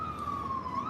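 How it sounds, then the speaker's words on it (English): An ambulance siren on the road in Miami holds a steady, fairly loud wailing tone that drifts slightly in pitch, heard from inside a vehicle over low road rumble. "sounds like a weird sound for an ambulance"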